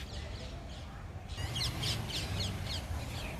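Birds, likely crows, give a run of faint, evenly spaced caws and chirps as they fly over a rooftop in Gujarat under an evening sky, distant and quiet above a low background hum.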